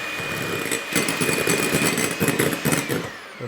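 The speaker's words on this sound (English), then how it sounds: "Now we're going to whisk our egg whites to light and pale fluffy." An electric mixer whirs steadily as it whisks egg whites for a gluten-free almond orange cake, a close high motor hum with a rattling, uneven churning texture that continues throughout.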